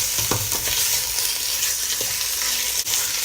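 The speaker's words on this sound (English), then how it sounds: "I'm going to start stirring this around" Panang curry being stirred in a pan over gentle frying: soft scraping strokes and a few clinks of the utensil against the pan over a steady low sizzle, close up, with no talking.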